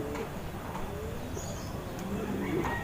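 Pigeons at a home loft during a morning routine, soft cooing and a few chirps under faint background noise, with a voice speaking nearby.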